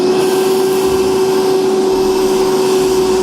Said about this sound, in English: we're going to go ahead and vacuum up those metal shavings.